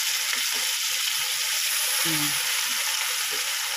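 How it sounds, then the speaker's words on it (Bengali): Hilsa fish pieces fry in a generous amount of mustard oil in a kadai, giving a steady, close, crackling sizzle throughout with a faint brief tonal squeak. "এবারে মাছগুলোকে আমি একটার পর একটা ছেড়ে দেবো। অবশ্যই এটা সর্ষের তেলে রান্না করব"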